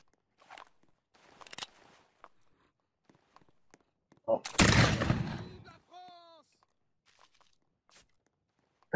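A single loud musket-style gunshot in a Napoleonic war video game cracks out with a short rumbling tail amid otherwise quiet moments, with a voice speaking around it.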